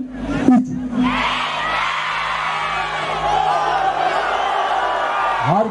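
A festival concert crowd of girls and women at the Erciş İnci Kefali Fish Festival shouts in unison on cue, a loud, sustained roar of voices that swells after a brief sound at the start.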